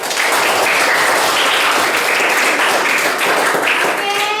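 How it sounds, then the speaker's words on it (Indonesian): Children in a classroom clap together after the teacher calls for applause, a steady dense patter of small hands sustained for several seconds at close range, with a few voices mixed in. "Tepuk tangan semua."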